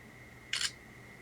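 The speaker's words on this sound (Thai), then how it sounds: "กดจุ๊บ ชัตเตอร์ก็เร็วดีนะครับ" Camera shutter on a dtac Eagle X phone: a single short, crisp click in the middle of an otherwise quiet moment with a faint steady tone behind it.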